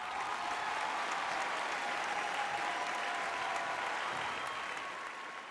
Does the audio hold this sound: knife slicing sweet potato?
no